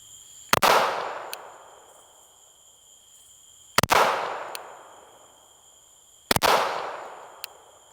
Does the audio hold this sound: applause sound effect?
no